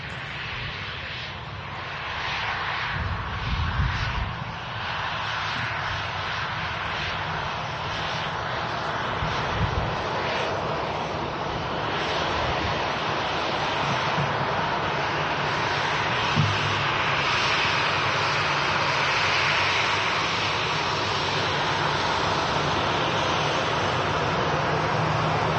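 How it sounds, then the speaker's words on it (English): Ryanair Boeing 737-800 jet, a British-registered aircraft at Manchester Airport, producing a steady, loud engine roar that holds throughout with a broad rushing hiss and low rumble, no voices over it. "Ryanair flight 84901 with a Boeing 737-800"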